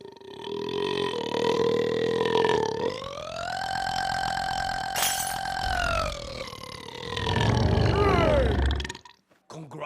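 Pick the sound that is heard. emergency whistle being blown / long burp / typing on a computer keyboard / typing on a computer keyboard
long burp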